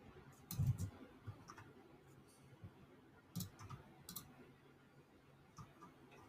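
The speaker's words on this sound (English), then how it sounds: "I can hear your keys." Clicky computer keyboard keys typed remotely during a live sports-picks stream, scattered irregular taps of moderate loudness over a low background hum.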